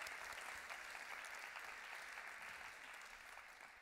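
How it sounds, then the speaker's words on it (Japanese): Audience at a church conference in Japan applauding, a dense, even wash of many hands clapping that holds steady and slowly tapers off near the end, somewhat distant. "Let's give a good clap"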